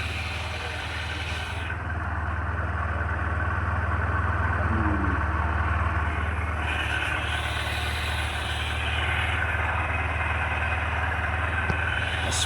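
Close, steady idle of an SP 125 motorcycle engine under repair, a low even rumble that settles without revving, with faint background noise and brief voices.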